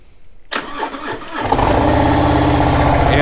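A 2020 Harley-Davidson Street Glide motorcycle cranks over and fires up, its big V-twin catching after a brief starter whine and settling into a loud, steady, rumbling idle close by.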